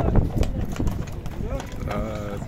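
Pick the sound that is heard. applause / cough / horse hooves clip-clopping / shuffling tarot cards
horse hooves clip-clopping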